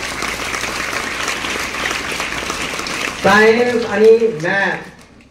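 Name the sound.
audience applauding students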